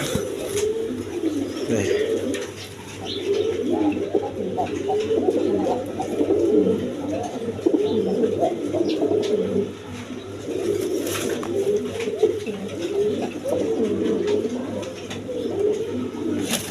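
A pair of Rajgolla pigeons coo continuously up close, a low rolling burble repeating in waves with short pauses, steady and fairly loud against a quiet background.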